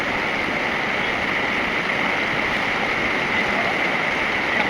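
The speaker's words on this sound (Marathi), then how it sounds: "ओढा आहे. एवढं स्वच्छ पाणी आहे इथं." A clear-water village stream flows with a steady, close rushing and gurgling that holds an even level throughout, with no voices.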